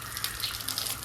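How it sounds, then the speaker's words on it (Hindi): Water from a motor pump gushing steadily as it is used to wash and clean a house, a continuous close hissing rush with no talk. "पानी लगा के इसको चमका के जाऊँगा"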